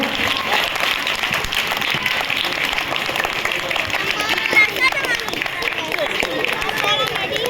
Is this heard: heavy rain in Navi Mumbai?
no